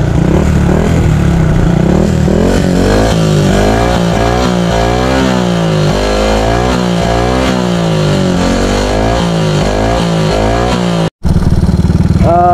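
A motorcycle engine running after its fuel mixture was adjusted, loud and close, holding a rough steady idle with repeated rises and falls in revs and a brief cutout near the end.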